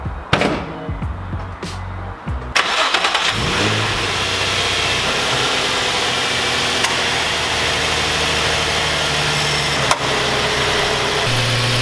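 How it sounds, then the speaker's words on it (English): A Nissan 350Z engine idling steadily, with a worn idler pulley bearing at the front of the engine adding a continuous whirring drone, after a brief rev and some handling noises at the start. "the bearing noise that's coming from the front of the engine"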